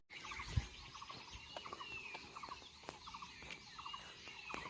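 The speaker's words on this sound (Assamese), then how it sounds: "গাঁৱত থকা চৰাই চিৰিকটিৰ মাত কি ধুনীয়া লাগে ৰাতিপুৱা শুনি" Several birds chirp and trill in short repeated phrases at a moderate distance in a village in the morning, with occasional sharper calls over a quiet outdoor background.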